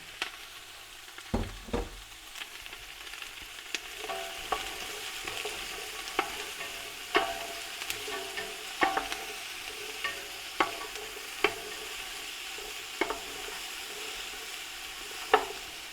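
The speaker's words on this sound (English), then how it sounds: "You should hear that lovely sizzle." Onions sizzle steadily in a hot pan, with sharp clicks and taps of a utensil stirring at irregular intervals throughout.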